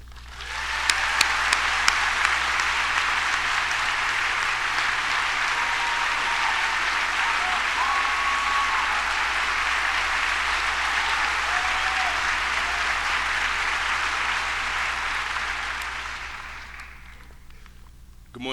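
A university audience at the University of Illinois applauds steadily and loudly for about seventeen seconds as a student speaker is welcomed, with the clapping fading out at the end.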